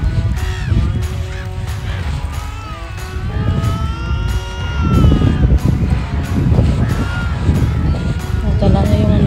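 Geese honk over and over on the beach at Laboe, loud and close, in a run of overlapping calls. People talk underneath and background noise rises in the second half.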